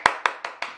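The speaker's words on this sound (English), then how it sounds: "a clap" Sharp hand claps, five quick even strikes about a fifth of a second apart, close and moderately loud with no talking.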